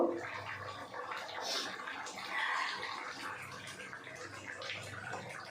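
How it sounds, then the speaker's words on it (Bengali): Water is poured into a pan of spiced potatoes for a fish-head curry, a close, soft splashing gush that carries on steadily for several seconds with a faint sizzle beneath and no talking. "এবার অল্প পরিমাণে জল দিয়ে দেবো"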